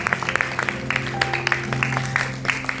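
A church congregation at a New Year's Eve 2025 service claps and cheers in praise, sharp hand claps popping irregularly over a sustained musical drone, moderately loud and close.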